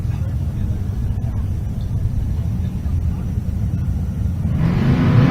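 An Oldsmobile-powered 442 drag race car rumbles at Race Week in Pueblo, Colorado, a loud, steady low engine drone that swells near the end.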